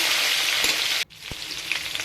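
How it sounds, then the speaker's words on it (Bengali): Potatoes with black cumin seeds frying in a pan, a bright steady sizzle that briefly cuts out as they are stirred, then resumes with a soft knock and crackling spatter. "ভাজা ভাজা করে নিচ্ছি"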